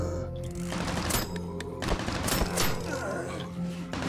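Gunfire aimed at zombies in the video game 10 Miles To Safety, with rapid bursts of shots crackling repeatedly and loudly throughout, mixed with thuds and game noise.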